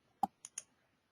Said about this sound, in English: go ahead and click Yes.